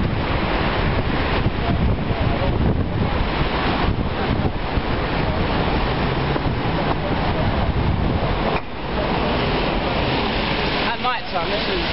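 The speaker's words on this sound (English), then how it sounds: "Got the waterfall, nice features" An indoor waterfall at Meadowhall shopping centre in Sheffield gives a steady, loud wash of rushing water, mixed with wind buffeting on the microphone throughout.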